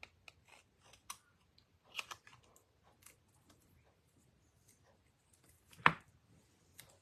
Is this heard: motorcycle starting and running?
no